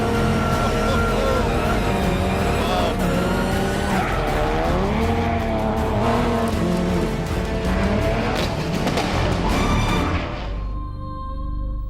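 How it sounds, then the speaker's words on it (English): A rally-prepared car driven hard on gravel, engine revving loud and close with rising and falling pitch, tires skidding and scrabbling throughout before the sound cuts off abruptly near the end. "this car has been set up to handle just like a rally car would on gravel."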